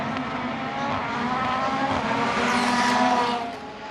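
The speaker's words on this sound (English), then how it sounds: "Just the drag race to the line now." Rallycross cars drag race to the finish line in a World Rallycross qualifying session in Canada, their engines roaring loudly as they build and pass, then the sound drops away at the end.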